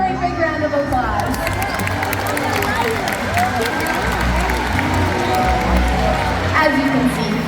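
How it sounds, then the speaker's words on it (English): A large outdoor crowd at a SeaWorld orca show claps and cheers, with children shouting and chatter mixed into the steady applause throughout. "Go ahead and give yourselves a very big round of applause"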